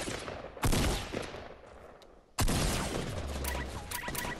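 Gunfire in the video game Fortnite: two sudden loud bursts of shots, the second a sustained volley with a low rumbling tail and electronic game tones.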